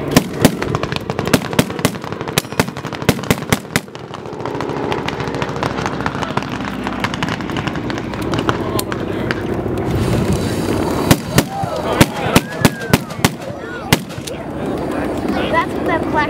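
Loud outdoor WWII Iwo Jima battle reenactment at an air show, with sharp gunfire cracks and booming blasts from a flamethrower and bazooka amid a roaring, rushing burst and crowd noise, some voices audible.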